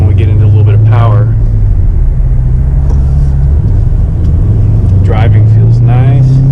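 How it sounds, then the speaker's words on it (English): Twin-turbo Camaro engine droning steadily from inside the car as it pulls under power, a low continuous rumble with faint turbo whoosh above it, while a person talks over the engine noise. "It literally feels and acts like a stock car, other than the cool turbo noises at this point"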